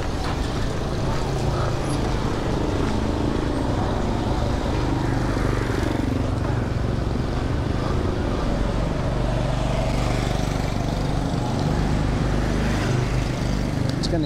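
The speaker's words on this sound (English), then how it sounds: "Get a little noisy with the traffic." Steady street traffic roars close by, a dense wash of engines and road noise with no clear breaks.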